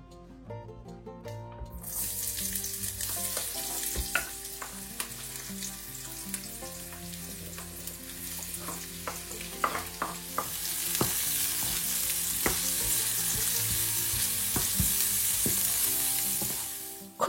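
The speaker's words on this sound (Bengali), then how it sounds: "পেঁয়াজ আর ক্যাপসিকাম একটু কুচিয়ে হালকা করে একটু ভেজে নেব" Chopped onion and capsicum fry steadily in a pan for a low, continuous sizzle, with occasional clatter from stirring and a brief rush of water near the start, no voices over it.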